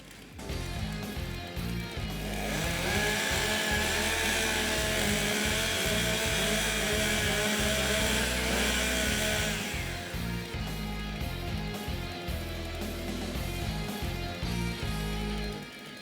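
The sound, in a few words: STIHL stock chainsaws warming up at timbersports competition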